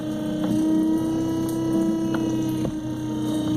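A Minn Kota electric trolling motor drones steadily with a low tonal hum from propeller drag, its pitch holding level with faint ticking and slight strain throughout.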